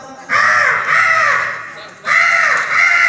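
A man imitates crow cawing with his voice, giving loud, harsh, drawn-out caws in two bursts with a short pause between them, close and clear.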